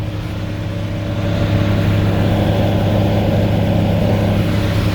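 A 4440 tractor drives a New Holland 60 blower (a Case IH 600) unloading corn silage into a 20 by 70 silo, giving a loud, steady engine and machinery drone that holds throughout, with no talking.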